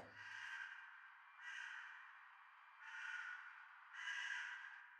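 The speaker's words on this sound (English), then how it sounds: "this is something that was recorded with a crow coming from the window, the sound of it, into my room" Four rough, hoarse caws from a crow beyond a window, captured indoors, quiet and distant, evenly spaced and heard alone with low frequencies thinned out.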